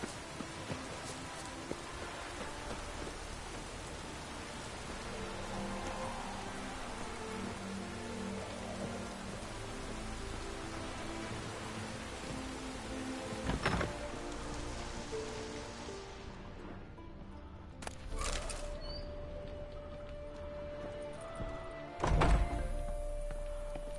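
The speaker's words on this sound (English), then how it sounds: "Raining." Steady video game rain on PS4 patters continuously in the background, with a few louder thumps and clicks breaking through near the end.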